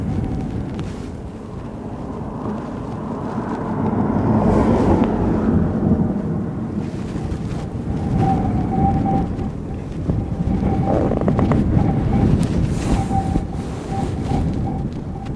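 Strong wind gusts buffet the microphone outdoors at Aberdeen Airport during Storm Amy, a loud, rolling low roar that swells and eases in waves, with a faint intermittent tone from somewhere nearby.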